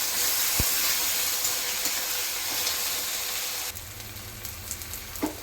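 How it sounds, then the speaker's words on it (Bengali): Chopped onions sizzle and hiss steadily in a hot pan for the cooking of kuche mudfish curry, a loud continuous frying noise that drops a little quieter partway through, with a few light clinks near the end. "ভালো করে পেঁয়াজটা ভেজে নেব লাল লাল করে"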